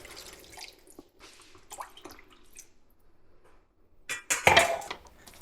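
Water is poured into a cooking pot of green beans with diced tomatoes: a short, close splashing pour rises near the end after quiet kitchen clinks and drips.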